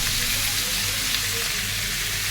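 Onions sizzle steadily in hot oil left from frying rohu fish for birista, a continuous, even frying hiss with no talk.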